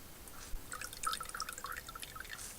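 Water drips and trickles from squeezed wet colourwork knitting held over a bucket, a quiet run of small irregular patters and splashes close by, with no talking.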